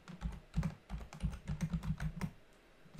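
Fast continuous typing on a computer keyboard while composing a Microsoft Teams message, crisp close keystrokes in quick bursts with a brief pause at the end, no voices.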